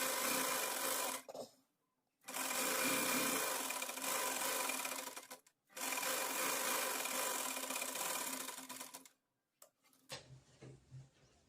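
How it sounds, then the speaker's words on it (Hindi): A sewing machine stitches elastic onto a frock in steady, fast runs of close buzzing. There are three long bursts, separated by short pauses, then a few soft handling sounds. "इसी तरह से हमें पूरी सिलाई करनी है ये"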